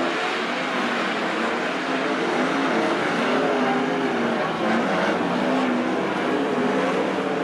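Winged sprint cars racing in a heat at Attica Raceway Park, a dirt oval, during the 2023 Brad Doty Classic. The engines make a loud, continuous, buzzing roar with overlapping rising and falling notes from several cars, sustained throughout with no gaps.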